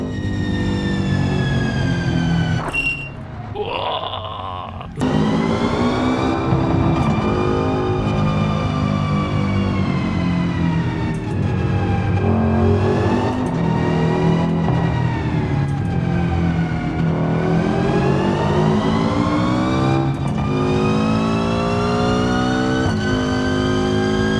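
Car in a driving video game pulling away with the clutch, its engine droning loudly and climbing steadily in pitch as it accelerates, with a brief dip early on and no talking.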